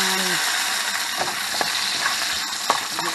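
Onions fry in a pan with a steady close hiss, broken by a few light clicks of a utensil being stirred.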